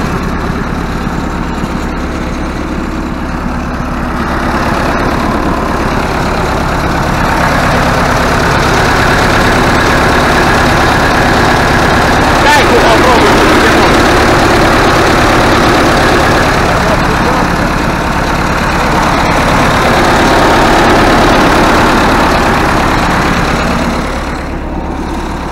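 A DT-75 crawler tractor's diesel engine idles, a steady, loud, close rumble that holds evenly throughout with little change in pitch.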